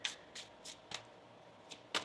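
Tarot cards being shuffled by hand, a series of six crisp riffling bursts with short gaps between them, close and fairly quiet, no talking.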